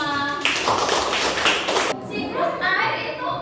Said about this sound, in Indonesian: Terima kasih, tepuk tangan buat kita semua.